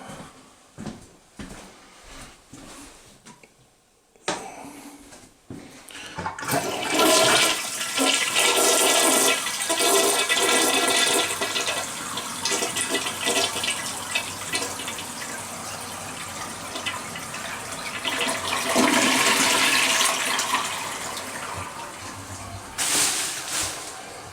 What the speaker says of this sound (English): There's pressure in the tank, so I'm bleeding that off. The water should stop running